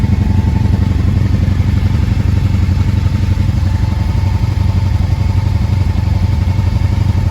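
Two 1995 Honda Shadow VLX V-twin motorcycles idle side by side, a steady close, loud, throbbing low rumble with an even pulsing beat and no talking.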